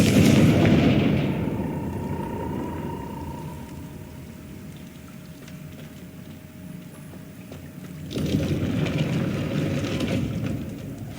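Confringo blasting spell exploding in Hogwarts Legacy, with a loud broad burst at the start and another heavy blast rumbling in near the end, over a low game hum and no talk.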